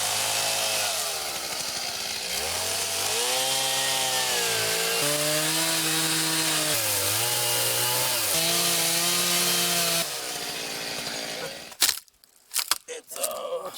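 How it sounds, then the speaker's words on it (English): A chainsaw roars steadily, its pitch rising and dropping as it bites into a tree, then cuts out, leaving a few loud knocks and thuds. "bring in the chainsaw."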